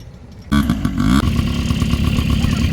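A sand bike's motorcycle engine at a desert riding spot in Saudi Arabia starts up abruptly and revs hard, holding a loud, rough, steady drone close by.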